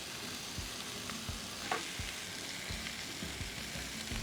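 Meat sears in a hot pan with a steady, close sizzling hiss, broken by a few soft knocks and scrapes of turning.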